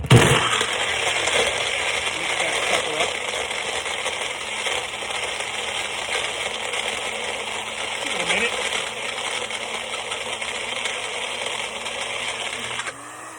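A Magic Bullet blender grinds a frozen beer cocktail, a continuous loud whirring buzz with icy rattling of frozen chunks against the cup, steady for over ten seconds before cutting off.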